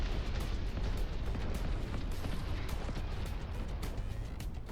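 Dense, continuous roar of bombs exploding and debris crashing in the Instruments of Destruction game, loud and unbroken, with rumbling booms layered throughout.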